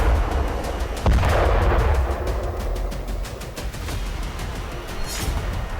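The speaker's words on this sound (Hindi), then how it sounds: "यह वीडियो भी दक्षिणी लेबनान का है, जहां आईडीएफ ने बारूद बरसाकर 8 से ज्यादा इमारतें जमींदोज कर दी।" An IDF bombardment brings down buildings in southern Lebanon. A heavy blast lands about a second in, followed by a sustained loud rumble and scattered sharp cracks.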